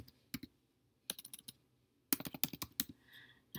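Quiet keyboard typing in short bursts of clicks with pauses between, close and crisp, ending in a quick flurry of keystrokes.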